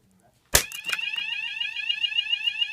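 A fire alarm call point, set off by breaking its glass in a bedroom test system, sounds after a sharp crack: a loud, continuous warbling electronic tone that holds steady to the end.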